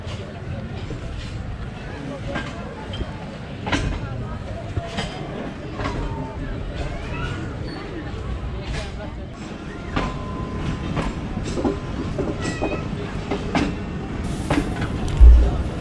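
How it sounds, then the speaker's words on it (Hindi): Aboard the Allama Iqbal Express passenger train as it pulls away from a station on the Sialkot to Lahore route, there is a continuous rolling rumble with rhythmic wheel clicks, while voices talk inside the carriage. "किला सूबा सिंह से 2-3 मिनट स्टॉप के बाद रवानगी हो गई है हमारी।"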